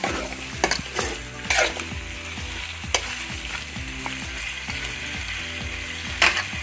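Chicken curry simmering in oil in a home kitchen pan, Telangana style: a steady crackling sizzle with frequent stirring scrapes and clinks, close and moderately loud, no talk.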